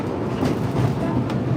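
Disneyland Railroad train rolling along its tracks, a close, continuous low rumble with rhythmic rattling and occasional clacks from the car, no clear talk.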